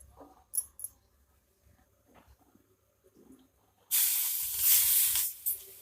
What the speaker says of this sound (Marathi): तवा गरम झाला, आपण भाकरी भाजून घेऊया.